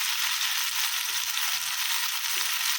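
Green chili sizzling and frying in a hot pan, a steady broad hiss that runs unbroken throughout, with faint stirring clinks underneath and no talk.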